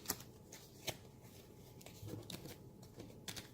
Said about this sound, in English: shuffle them back into the deck